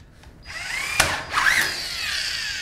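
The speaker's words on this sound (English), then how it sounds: "I can now secure by using two wafer head screws." A power drill drives wafer head screws during drywall door framing, a short whine with rising pitch and a sharp mechanical burst, close and clear with no talk.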